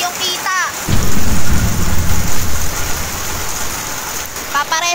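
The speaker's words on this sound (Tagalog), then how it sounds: "galit na galit pa yung ulan" Heavy rain pours down during a flood, a loud continuous roar with deep thunder rumbling through the middle, while voices briefly speak at the start and end.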